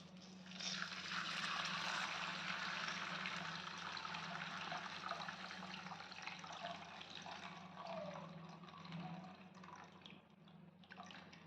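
Tamarind water for vatha kuzhambu pours into a pan in a steady, splashing stream that lasts several seconds and then tapers off, close and fairly quiet.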